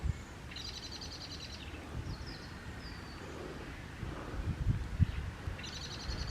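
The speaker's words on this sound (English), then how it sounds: "I don't know if that's the right collective noun for field fares, but that's how it does sound really." A flock of fieldfares chattering somewhere off in misty winter countryside: faint, distant bursts of harsh chirping calls at the start and end, over a low rumble of wind and movement.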